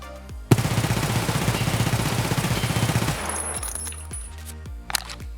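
An MP7 submachine gun fires in Escape From Tarkov as one loud, close burst of rapid automatic fire lasting about two and a half seconds, followed by a clatter of spent casings and small metallic handling clicks.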